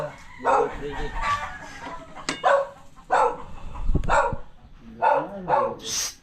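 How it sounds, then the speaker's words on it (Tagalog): A dog barks in short separate bursts, several times at irregular intervals, fairly close, with rooster-like crowing and clucking fowl mixed in outdoors. "maganda ng kahol ka"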